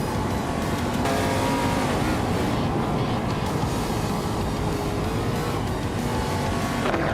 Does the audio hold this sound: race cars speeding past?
yes